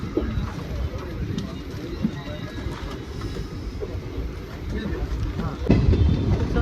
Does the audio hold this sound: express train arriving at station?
yes